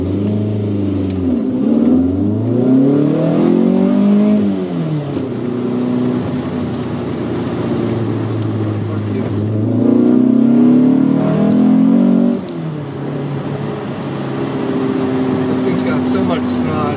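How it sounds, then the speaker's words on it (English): A 1983 VW Rabbit GTI accelerates on the road, its engine note climbing through gears in repeated rising sweeps and drops, loud from inside the cabin, with a voice talking over it. "This is so much fun to drive this car."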